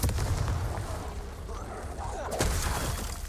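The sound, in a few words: Confringo blasting spell explosion from Hogwarts Legacy video game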